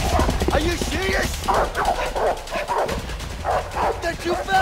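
Pursuing dogs bark and yip repeatedly in the video game A Way Out, fairly close and insistent, while game characters shout and talk over the chase.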